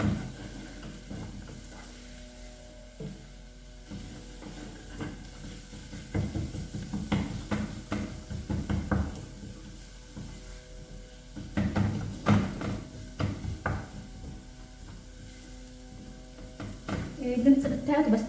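Carrots and garlic frying in a pan, a soft sizzle under repeated stirring and scraping with occasional knocks of utensils, getting busier toward the end.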